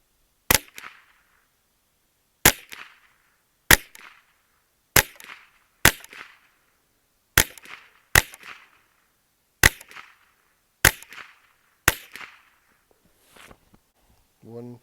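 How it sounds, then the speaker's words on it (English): A Legacy Citadel TRAKR .22 semi-auto rifle fires ten sharp, loud shots outdoors, spaced one to two seconds apart, each a crisp crack with a short echoing tail. "I'm going to shoot 10 more just to get a group."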